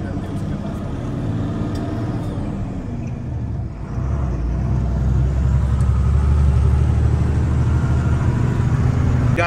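A children's school vehicle drives along a road in Banaras, its engine a low, continuous rumble at medium loudness. The rumble grows heavier and louder after about four seconds and stays steady to the end.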